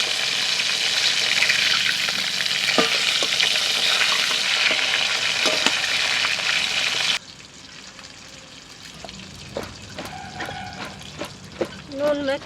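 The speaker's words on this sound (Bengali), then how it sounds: "মাছটা একটু লাল করে ভেজে নেবো।" Shol fish fries in hot oil, a loud continuous sizzle for about seven seconds, then a quieter crackle with clinks of a utensil stirring and turning the pieces.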